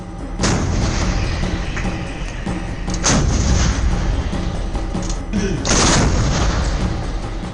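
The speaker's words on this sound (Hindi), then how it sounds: "जिन तोपों को आप सामने पहाड़ी चट्टानों में दुश्मन रूपी लक्ष्य को भेदते देख रहे हैं" Heavy artillery guns, K9 Vajra and M777 howitzers, fire three times at rocky hillside targets, each deep booming blast rolling out over a steady rumbling background, spaced a few seconds apart.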